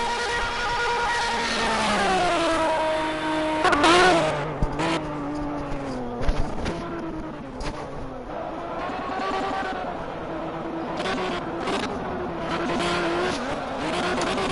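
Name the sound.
race cars driving and bouncing over curbs, Project Cars video game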